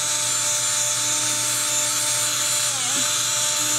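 A steady high-pitched power drill whines continuously, close and loud, with a brief dip in pitch near the end as it bites into cardboard.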